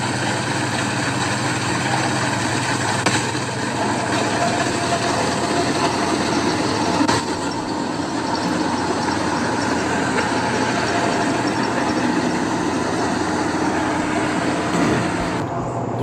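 A combine harvester runs during the wheat harvest, its engine giving a steady, loud mechanical drone with a constant hum and rattle that holds unbroken throughout.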